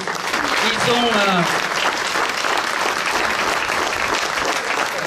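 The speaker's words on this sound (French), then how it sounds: "vous pouvez aussi les applaudir" A crowd at a 14 July ceremony in Bessan applauds the local firefighters, a dense, steady wash of clapping that fills the whole stretch, with a brief voice or tone rising through it near the start.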